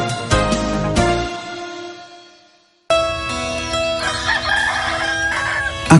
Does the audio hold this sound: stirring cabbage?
no